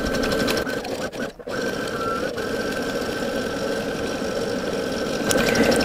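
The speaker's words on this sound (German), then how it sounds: "dann hier die Nähmaschine tatsächlich diesen Stoff reinziehen lassen" Domestic sewing machine stitching a torn pair of trousers, a steady close mechanical whir with a fast needle chatter, briefly pausing once before running on and speeding up near the end.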